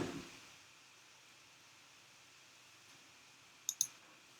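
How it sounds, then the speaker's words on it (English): Two quick, faint mouse clicks close together near the end of a quiet stretch of low background hiss, used to change presentation slides during a screen-sharing tutorial. "by clicking on this arrow, you're going to be able to change the slides"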